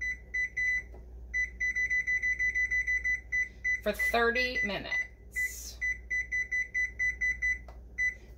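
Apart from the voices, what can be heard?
timer beeping as it is set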